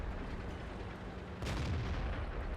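A tank cannon in World of Tanks fires once, a single loud boom that lingers as a rumbling tail over steady battle background noise.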